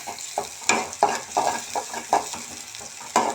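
Fish frying in a pan for a morning meal, with a continuous sizzle broken by repeated scraping stirs roughly every half second, close and clear with no talking.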